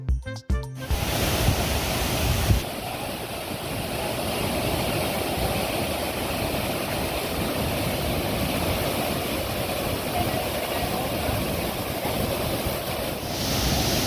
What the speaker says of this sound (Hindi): ये दूसरा वाटरफॉल है थोड़ा छोटा है लेकिन बहुत ही बेहतरीन वाटरफॉल है